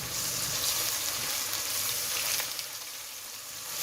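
Ginger garlic paste sizzling in hot oil with whole spices for chicken biryani, a steady bright hiss that is loud and close and eases slightly toward the end.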